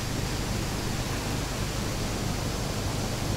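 A large river beside a campsite in Perak rushes past in a steady, even wash of broadband water noise, continuous and unbroken with no voices.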